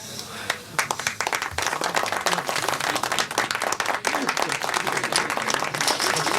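Audience applause at an evening show, a dense and loud burst of many hands clapping that starts after a brief pause and keeps going throughout.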